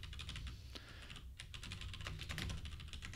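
Code is typed on a computer keyboard in a quiet room, a rapid, faint, irregular run of clicking keystrokes with short pauses, nearby and with no voices.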